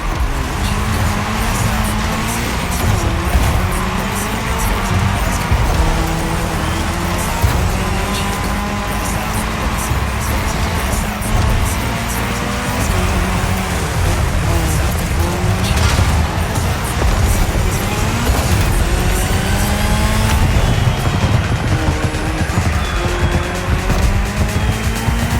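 Race car engine driving hard in The Crew Motorfest during a cross-terrain race that mixes racing disciplines, a steady loud drone of engine and tyres with shifting revs running continuously without pause.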